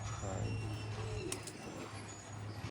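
Pigeons on a large Punjab farm give low, soft coos, muffled under a steady low hum and a faint background murmur.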